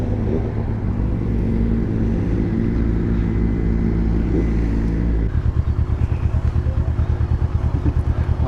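A motorcycle engine fitted with a Scorpion exhaust runs loud and close, holding a steady hum before settling into a lumpy, pulsing idle.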